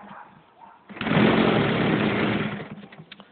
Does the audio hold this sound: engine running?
yes